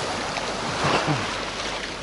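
Small waves at a pebbly Black Sea beach near Alushta wash in with a steady, close rushing and fizzing of water over the shore, briefly swelling midway.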